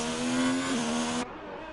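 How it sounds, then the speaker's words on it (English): Formula 1 race cars roar in a video game race at Singapore, a loud, steady high-pitched engine whine that holds, bends slightly in pitch, then drops abruptly to a quieter level near the end. "Mitch, cars are very loud."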